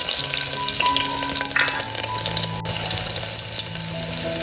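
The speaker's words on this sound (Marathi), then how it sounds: "लसूण आपला आहे ना छान प्रकारे कलर येईपर्यंत गोल्डन कलर येईपर्यंत तेलामध्ये फ्राय करूया" Four garlic cloves fry in hot oil in a cooking pot, giving a steady, loud, close sizzle throughout with no talking.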